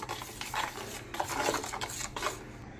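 Spices, salt, chili powder and turmeric worked into mustard paste in a bowl, soft irregular scraping and rubbing strokes, quiet and close, with no talk.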